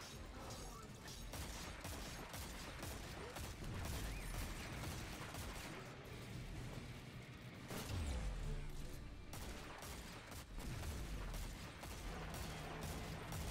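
Video game gunfire comes as rapid repeated shots and mechanical clatter in several bursts, with a few heavier thumps among them, steady and fairly close though quiet overall.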